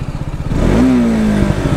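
A motorcycle engine revs hard for a wheelie attempt, with one sustained rising roar lasting about a second that stays close and loud.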